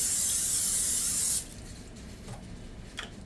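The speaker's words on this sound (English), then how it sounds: "We're gonna go ahead and just spray our pan." A short burst of cooking spray hisses steadily onto a frying pan for over a second, then cuts off, leaving faint kitchen clatter behind.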